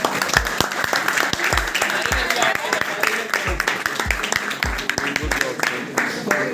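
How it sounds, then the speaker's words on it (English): Audience clapping during a tour of a hotel management institute in Shillong, brisk irregular handclaps close by with a busy crowd wash behind, some voices audible amid the clapping throughout. "Clap for Ministry of Tourism."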